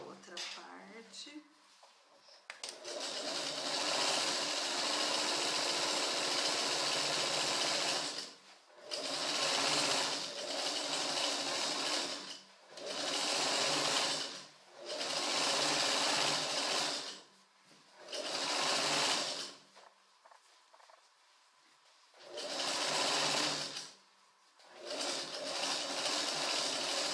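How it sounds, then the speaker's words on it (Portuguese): A sewing machine stitches trousers in repeated loud bursts, each running a few seconds and separated by short pauses, close up and with no one talking over it. "Agora eu costuro a outra parte."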